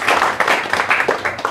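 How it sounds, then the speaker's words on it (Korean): An audience at a book launch event applauds, a short burst of many hands clapping in a quick, rhythmic patter indoors. "박수 부탁드립니다"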